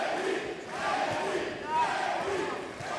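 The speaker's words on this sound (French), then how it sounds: "Vous entendez la foule." Arena crowd at a boxing match roars and murmurs in a steady, loud wash, with a commentator talking over it.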